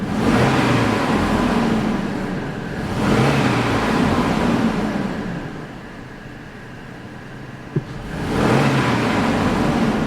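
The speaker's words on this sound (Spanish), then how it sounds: "Voy a dar un pequeño acelerón," A 2006 Dodge Dakota engine with a misfire is revved in short swells, rising and falling twice with a sharp knock near the end, heard close and loud with no talking.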